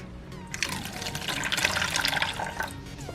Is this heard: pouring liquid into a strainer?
yes